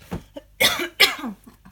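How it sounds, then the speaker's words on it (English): A few short, dry coughs from someone close by, two stronger bursts in the middle with softer throaty catches around them. "tickly cough."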